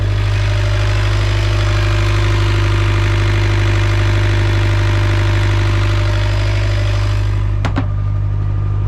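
A sailboat's engine runs steadily while motoring on an Atlantic passage to Cape Verde, a loud, constant low drone with a deep hum that dominates throughout, broken near the end by a couple of sharp knocks.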